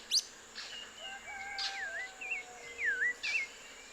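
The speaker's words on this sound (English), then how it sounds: "It's my first time hearing this bird." A bird sings in Oaxaca, faint and a little distant, with clear whistled phrases and sliding notes repeated over a quiet background with insects.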